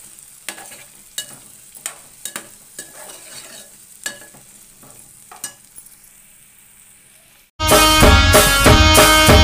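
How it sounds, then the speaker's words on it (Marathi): Potato sauteed in a pan for prawn curry, first with quiet scattered stirring clinks and scrapes, then a sudden loud, dense sizzle of frying that runs to the end; no talking. "थोडं याला परतून घ्यायचं।"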